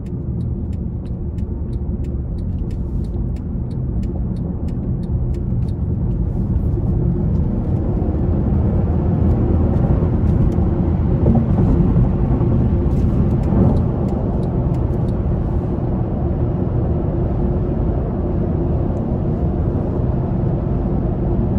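A 2017 Mercedes-Benz CLS 550 4MATIC engine drones steadily under throttle with a broad rumble and road noise throughout, building slightly in intensity midway, with no voices.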